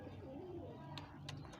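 Double-eyed low flyer pigeons coo softly in low, throaty bursts, faint and close, with a couple of brief higher chirps.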